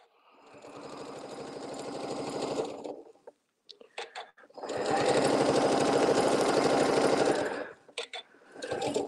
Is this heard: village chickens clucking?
no